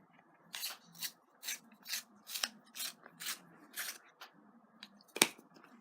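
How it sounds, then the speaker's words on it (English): A busted black Crayola colored pencil being sharpened, giving about nine evenly spaced rasping strokes close up, with a sharper snap near the end and no talking. "And then black, but I have to sharpen it because it's busted."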